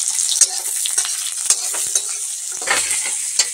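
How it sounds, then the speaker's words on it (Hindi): Chopped onion and green chili sizzle and fry in hot oil in a cooking pot, a steady crackling hiss broken by a few sharp stirring scrapes. "यहाँ पर हमने तेल डाल दिए हैं और प्याज और हरा मिर्चाई का फ़ौरन भी काट लिए हैं इसमें अब हम भूनेंगे"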